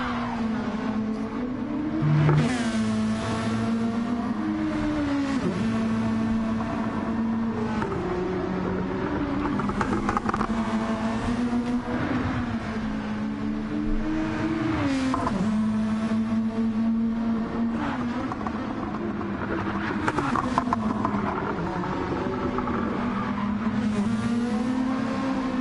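A RoboSport touring car races around the St Croix circuit in a sim racing game, its engine roaring loud and close, rising and falling through repeated gear shifts with occasional tire squeal.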